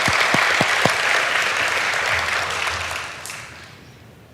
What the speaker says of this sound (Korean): 우리 하나님께 영광의 박수를 크게 올려드리겠습니다.